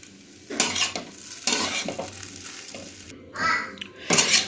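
Spoon stirring flattened-rice vegetable poha with ghee in a pan, with scraping and clinking strokes against the metal at an irregular rhythm, close and moderately loud, with no talking.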